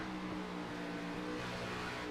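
A race car engine revving at Indianapolis Motor Speedway, a fairly quiet, steady droning whine with faint harmonic tones that holds level over the short stretch.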